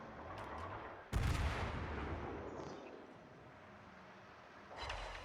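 A heavy naval gun broadside from the cruiser New Orleans in a video game sea battle, aimed at the battleship Colorado: one loud booming salvo with a long rumbling tail, then a second, softer blast near the end.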